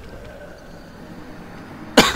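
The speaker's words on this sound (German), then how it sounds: "Das war ein bisschen Mischung zwischen angetäuschten Weinen und Husten." A person lets out one short, sharp cough blended with mock crying, loud and close, arriving right at the end after about two seconds of quiet room hiss.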